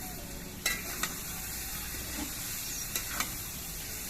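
Soybean chunks and potatoes frying in oil with slit green chillies, a soft, even sizzle that runs throughout, broken by a few light clicks of a spoon stirring in the pan.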